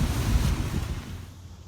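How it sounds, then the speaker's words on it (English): Broadband wind rumble buffets the microphone, strongest early on and easing toward the end, with no voices. "Really windy right now"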